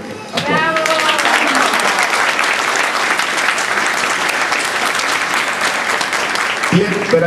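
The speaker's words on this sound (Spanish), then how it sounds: "para que pido un fuerte aplauso" A live audience applauds a singer at a huapango event in Tampico, a dense, loud, sustained clapping for several seconds, with a voice heard briefly at the start and end.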